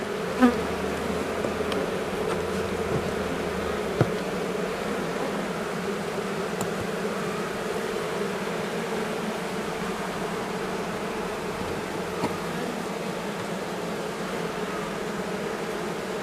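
A steady, dense drone of many honey bees buzzing together inside a hive with a glass screen, continuous and even throughout, like the hum of a busy colony.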